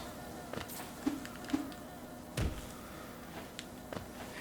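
Buzzing bee enemies in Hollow Knight, a faint insect drone under sparse game clicks and thumps, with a few short louder bursts, no voices.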